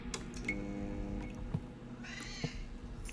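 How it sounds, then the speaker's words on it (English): A cat meows briefly in The Operator video game, a short soft call set against a quiet, humming room ambience. "I've got a kitty cat that needs my attention."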